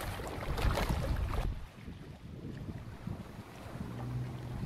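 A large Bình Định fishing boat runs at sea, its engine a low rumble beneath heavy wind and wave noise that is loud at first, then drops and builds again.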